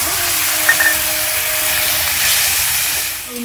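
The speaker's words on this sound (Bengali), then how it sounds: "আমি এক চামচ লঙ্কা গুঁড়ো দিয়ে দেবো, একটু জল দিয়ে মশলাটাকে ভেজে নেব।" Chili powder spice paste frying with a splash of water in a pan, for a pointed gourd, potato and fish curry, giving a steady, even hiss with no talk over it.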